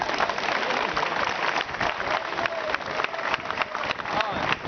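Tribute audience applauding for Pep Subirós, 83-year-old musician and cobla founder, with continuous clapping and some crowd noise throughout.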